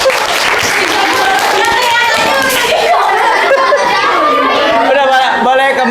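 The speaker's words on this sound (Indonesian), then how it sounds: "Tepuk tangan dulu." A classroom of children claps for the winners of a class competition: brief, lively applause over continuous chatter and children's voices.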